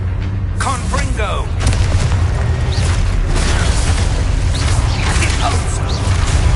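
Confringo spell blasts in the video game Hogwarts Legacy, booming explosive bursts with crackling magical effects and creaks, loud and continuous amid other combat sounds and shouted voices.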